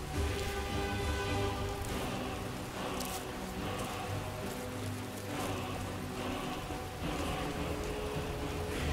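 Rain falls steadily in the video game Skyrim, a dense, even hiss of drops on surfaces that continues unbroken at moderate level with a low tonal game background beneath it and no voices.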